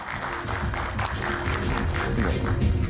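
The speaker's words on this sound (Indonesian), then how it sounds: "Kita berikan tepuk tangan sekali lagi Bung San Salvator." Studio audience applauding a guest named Bung San Salvator on an Indonesian televised political talk show; steady, continuous clapping fills the clip, with a low tonal hum or music underneath.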